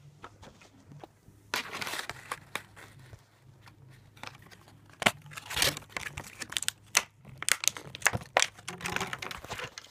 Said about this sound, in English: Let me pop out the toy.